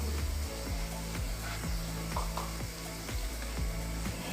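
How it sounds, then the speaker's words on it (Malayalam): A mixer grinder grinds half a grated coconut for coconut milk in a Kerala kitchen, giving a loud, steady mechanical whir with a repeating ratcheting clatter about twice a second throughout. "ഇത് മിക്സിയിലിട്ട്"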